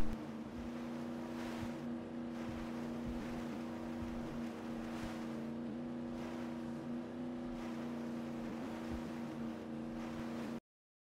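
The Squalo X7 boat in Just Cause 3 cruises on the water with a steady low engine drone under washing wind and wave noise, continuous and even until it cuts off abruptly.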